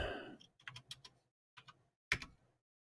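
Short bursts of keystrokes on a computer keyboard typing a command, crisp clicks in quick clusters with brief pauses between, close and fairly quiet.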